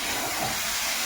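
Water poured into a hot pan of frying potol chingri, pointed gourd with prawns, sending up a loud, steady sizzling hiss from start to finish.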